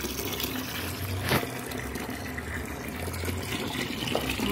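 Water poured onto potted plants in hot summer weather, a steady close splashing and trickling flow that runs throughout without talking.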